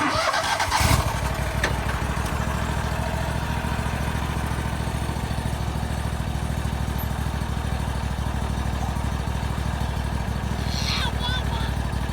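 Kohler lawn mower engine running steadily with Kavli Finisha blades fitted, a loud continuous rumbling drone after a brief knock at the start, holding an even pitch throughout.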